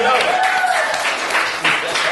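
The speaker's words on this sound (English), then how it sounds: "Give them the claps." Audience applause at a hip hop history lecture with DJs, a dense burst of clapping heard under a voice speaking over it.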